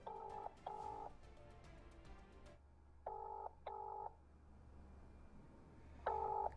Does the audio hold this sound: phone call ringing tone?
yes